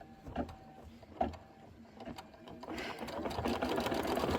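A sewing machine stitches down a quilted table topper, its needle running in a soft, fast patter that starts in short bursts and then settles into a steady, quiet hum without any voices.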